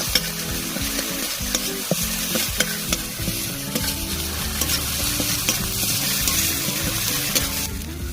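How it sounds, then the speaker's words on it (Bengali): Green chilli paste stirred into potato and pointed gourd frying in a pan, a loud continuous sizzle with repeated spatula scrapes and knocks against the pan, close and without any talking. "এই যে কাঁচা লঙ্কার বাটা দিচ্ছি, দিয়ে ভালো করে নাড়িয়ে নেব"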